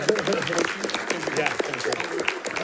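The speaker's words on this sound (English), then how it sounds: "So round of applause for them." Audience applause at a school board meeting for a league-champion softball team, a moderate crowd clapping steadily with voices talking over and through it.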